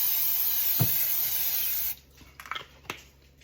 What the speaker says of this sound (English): Just need to get the spray.